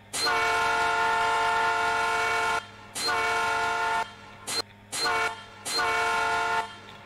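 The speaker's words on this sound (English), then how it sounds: "It's a nice horn. It's just the incorrect horn." CalTrain F40PH locomotive horn in Gmod sounds five loud blasts, two long and three shorter, with a chordal, echoing tone and brief pauses between them.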